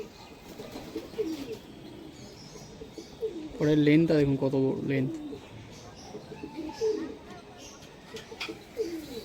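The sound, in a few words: pigeons cooing, blue kamagar high-flying pigeons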